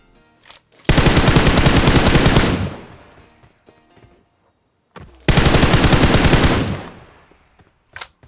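Two long bursts of rapid automatic gunfire in the mobile battle royale game PUBG Mobile, each sustained for about two seconds and then trailing off, with a few quieter shots between and after them and no one talking.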